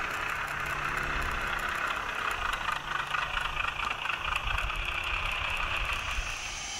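A small diesel shunting locomotive on a light railway idles steadily with a low, continuous rumble and chugging throb, moderately loud and unbroken throughout.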